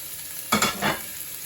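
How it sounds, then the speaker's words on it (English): Two medium-sized onions hit a hot pan for frying, giving a short burst of sizzle and a couple of stirring scrapes that fade back into low kitchen hiss. "And then I'm going to fry the onions."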